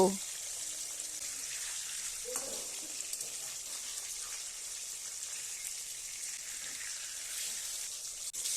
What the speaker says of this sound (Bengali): সামান্য পরিমাণে একটু লবণ তেলের মধ্যে দিয়ে মাছগুলো ভাজি